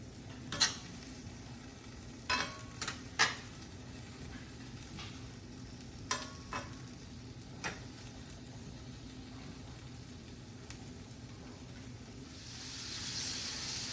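Tomatoes cooking in a pan for shahi paneer, a faint steady sizzle under occasional sharp clinks and scrapes of a spoon stirring, quiet and close with no talking.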